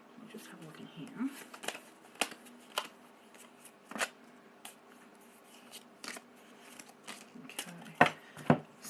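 Tarot cards being drawn and handled, a string of soft papery flicks and snaps at an uneven pace, with two sharper, louder card slaps near the end over faint room tone.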